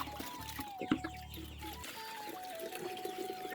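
Chickens cluck close by while being given deworming medicine mixed into their drinking water, with scattered soft calls over a low background rustle and a brief splash of pouring water.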